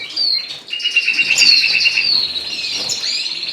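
Newly hatched canary chicks chirp in a bird room in thin, high, continuous peeping that rises and wavers for several seconds, close and fairly loud.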